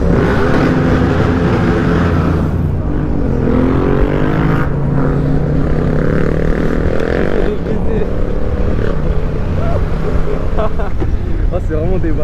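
Honda X-ADV 2022 scooter fitted with a Raptor exhaust accelerates through a tunnel, its loud, steady engine roar rising in pitch over several seconds with a continuous droning rumble and faint voices mixed underneath.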